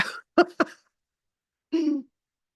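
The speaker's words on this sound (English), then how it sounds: "Yes, still coughing, still cough drops." A few short, sharp coughs in quick succession, then a brief pause and one more rougher cough, close and isolated.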